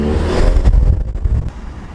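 A VW GTI MK7 fitted with a CTS intake revs hard and close by, a loud rising engine roar that peaks and then eases back to a steady drone.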